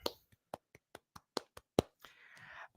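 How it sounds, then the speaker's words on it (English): A single person clapping hands a handful of times, sharp isolated claps spaced irregularly, close and fairly quiet, followed by a brief soft rustle. "I'm just going to pause and just clap for him for a second"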